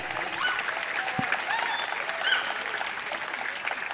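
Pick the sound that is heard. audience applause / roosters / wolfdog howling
audience applause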